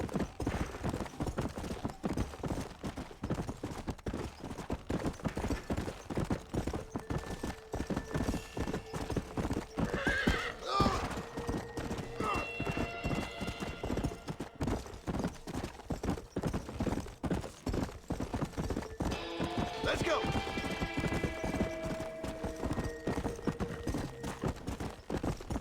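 A horse gallops steadily in the zombie-western game Red Dead Redemption: Undead Nightmare, rapid rhythmic hoofbeats throughout with a couple of sharp whinnies rising over the pounding, loud and close.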